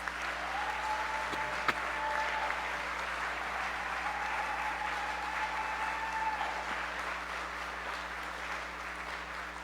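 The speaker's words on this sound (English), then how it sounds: "Let's give them a warm applause." Warm applause from a Rotary Club of Oakland audience at an officers' inauguration, greeting newly introduced trustees; a steady, fairly distant wash of clapping that holds evenly for the whole stretch with no speech over it.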